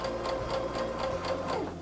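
A home sewing machine stitches through fabric with a steady, rapid needle clatter and motor whir, close and continuous for about two seconds with no talking.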